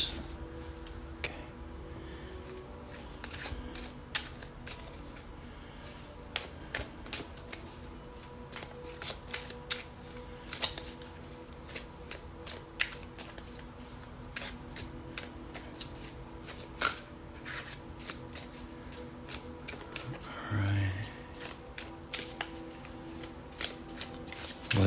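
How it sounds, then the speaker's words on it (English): Awake Inner Wisdom oracle cards are shuffled by hand, a steady run of soft papery riffles and taps close to the microphone, quiet and continuing without talk, with one louder bump near the end. "Next, I'm going to shuffle the Awake Inner Wisdom cards."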